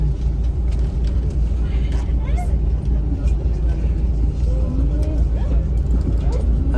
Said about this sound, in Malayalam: അപ്പോൾ അതാ നമ്മൾ തൊട്ടപ്പുറത്ത് വന്നിരിക്കുന്നതാണ് ഷാർജ അതോറിറ്റീൻ്റെ ബസ് കേട്ടോ